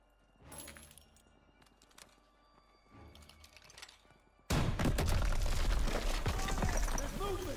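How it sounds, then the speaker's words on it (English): Launcher blast through a weak wall in Call of Duty WWII: quiet shuffling and clanks build to a sudden loud explosion with crumbling debris and rumble, while voices speak over the scene. "This wall looks weak. Daniels, use your launcher to clear a path."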